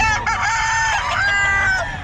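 A gamefowl rooster at the Bocaue market crows loud and close in one long, sustained, strained call, with steady background noise underneath.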